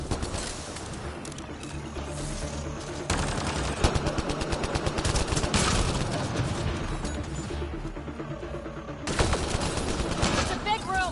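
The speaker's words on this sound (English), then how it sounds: "It's a gunfight in the gun battery then." Rapid automatic gunfire in a gunfight inside a gun battery in the video game Mass Effect: Andromeda, sustained loud bursts of shots, near and constant, with heavier volleys midway and near the end and voices shouting over the battle.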